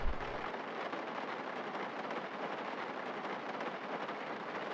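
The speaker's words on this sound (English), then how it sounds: "I have never been so happy to see rain." Steady rain hisses from inside a vehicle cab in Farming Simulator 19, a dense, even wash of noise at a constant level throughout, with a brief low rumble at the start and no talk.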